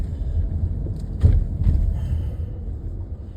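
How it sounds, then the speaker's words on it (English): A big truck passes on a road along the Connecticut shoreline in Madison, a low rumbling swell that peaks mid-way and fades, heard fairly close with no talk. "big truck coming."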